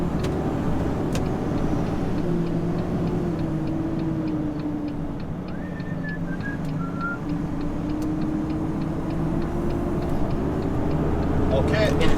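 A vehicle engine drones steadily up close, rising slightly in pitch as it accelerates through the gears, with faint clicks and a short beeping tone partway through; no voices are heard.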